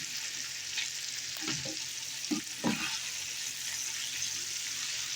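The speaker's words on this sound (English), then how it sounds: "So I'll let this simmer for a while before I add my cabbage." Sausage sizzles in a pan with a steady bright crackling hiss, broken by a few soft stirring scrapes near the middle, close and moderately loud with no voices.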